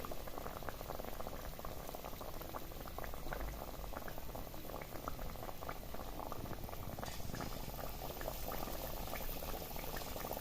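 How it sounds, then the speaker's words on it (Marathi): Potato bhaji in batter deep-fry in hot oil, giving a continuous, soft bubbling sizzle that stays even and fairly quiet throughout, with no talking. "तेल चांगलं तापलेलं होतं त्यामुळे आपली जी भजी शिजण्याची किंवा तळण्याची जी प्रोसेस आहे ती लगेच चालू झाली आहे"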